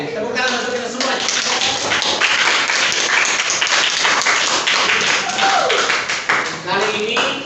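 A class of students applauds during a school quiz session, loud and continuous clapping for several seconds with some scattered louder claps and faint voices mixed in.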